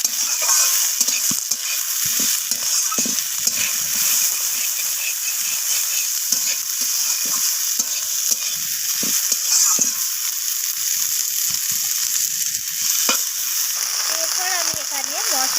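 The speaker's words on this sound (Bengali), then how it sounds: "তো বিনস কড়াইগুলো আমি পেঁয়াজের সাথে এইভাবে নাড়াচাড়া করে আমি ভাজা ভাজা" Green beans and peas stir-fried with onions in a pan give off a continuous close sizzle, broken by repeated scraping and stirring clatter throughout.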